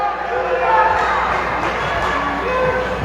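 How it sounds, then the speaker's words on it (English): A girls' high school basketball crowd at a senior night game chants "you can't do that" in unison, a steady, fairly loud wash of many voices in the gym with a commentator talking over it. "Crowd getting live with the "you can't do that" chants."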